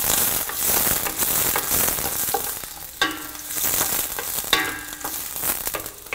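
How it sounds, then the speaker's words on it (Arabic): Onions dropped into hot oil in a pan, a close crackling sizzle with sharper bursts and spatters as pieces land and settle, fairly loud and with no talking. "درنا الزيت ديالنا تسخن، غادي نضيفوا لها ان شاء الله البصل"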